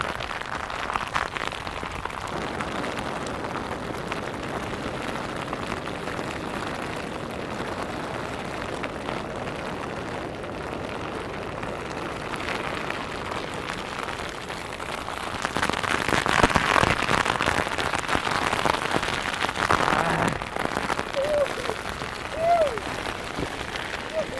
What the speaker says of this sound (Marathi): बघा काय पाऊस पडता